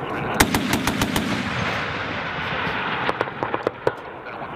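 Aircraft rockets and guns firing on a target during a Marine offensive air support exercise: rapid cracking bursts over a steady roaring rush, loud and fairly close, with a second string of shots near the end.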